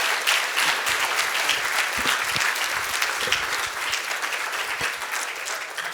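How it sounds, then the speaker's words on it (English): An audience at a Delta Air Lines meeting applauds steadily, dense clapping at fairly even loudness throughout, slowly tapering. "give the incomparable Ed Bastian another round of applause"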